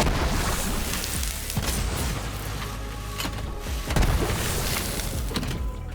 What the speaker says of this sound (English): So basically, it just attaches rockets to someone, and then a few seconds later, they explode.